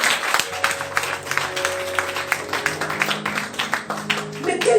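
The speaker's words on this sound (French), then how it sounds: "on acclame très fort pour Jésus" A church congregation claps and cheers for Jesus, a dense burst of applause mixed with voices and sustained musical tones.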